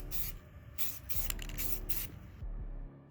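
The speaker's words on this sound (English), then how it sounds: "Next I'm going to give the base a few coats of flat black paint" Flat black spray paint hisses onto a Boba Fett helmet stand base in several short bursts, close and bright, separated by brief pauses and ending in quiet.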